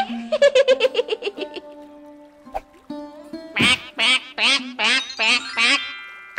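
A cartoon duck on a duck farm quacks in quick, rhythmic bursts, first a rapid run of short quacks, then a pause, then a second series of louder, fuller quacks close up.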